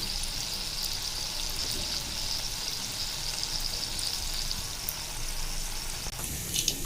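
Chicken keema samosas deep-frying in hot oil, a dense, even bubbling hiss that holds steady and close, with a faint clink toward the end.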